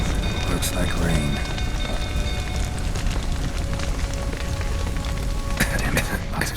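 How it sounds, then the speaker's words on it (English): Rain pours in The Witcher 3 video game, a steady hiss of falling drops with a low rumble beneath and brief louder bursts, loud and continuous without speech. "Looks like rain."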